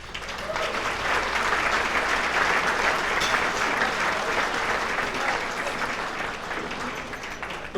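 A crowd at the 2019 Woburn High Hall of Fame ceremony gives sustained, full applause that swells and holds evenly, then tapers slightly near the end.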